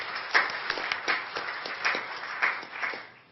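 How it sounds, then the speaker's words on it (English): Applause at a university Board of Regents meeting, a modest scattering of hand claps that rises and falls over a few seconds before tapering off. "So a round of applause for Joshua"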